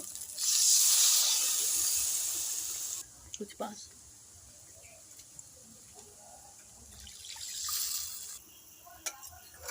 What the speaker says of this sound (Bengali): এবার মশলা জল ঢেলে দেব